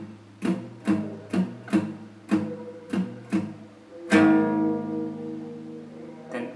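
Electric guitar riff pattern from a song, six evenly spaced plucked notes on the low string followed by a ringing chord that sustains and fades, played clean and alone.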